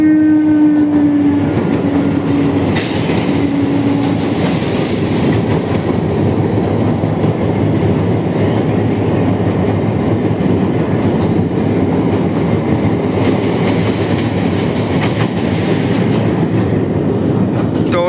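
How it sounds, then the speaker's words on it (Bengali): Train crossing a railway bridge over the Ganges, loud and close with a steady rolling rumble and rhythmic clatter of wagons throughout, a brief horn-like tone at the start, no talk. "তো দেখতে পাচ্ছ ট্রেনটা যাচ্ছে।"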